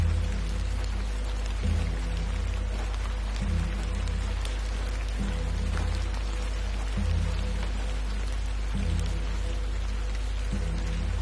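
Steady rain falls in the video game The Excavation of Hob's Barrow, a continuous even hiss of drops on surfaces beneath a low droning tone, constant throughout with no voices.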